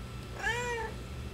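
A single short, clear cat meow, rising then falling, close by against a quiet background.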